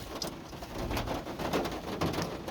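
Steady rain falls outside at a 1988 Chevy C1500 pickup project, a soft continuous patter with faint bird cooing mixed in, no talk.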